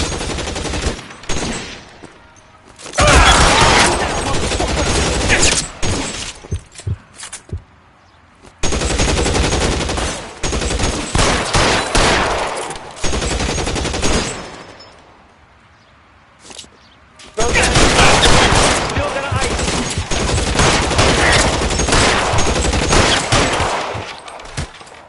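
Sustained gunfire from a shootout in the video game LA Noire: rapid automatic bursts and shots in three long loud stretches, separated by quieter gaps with footsteps and faint movement.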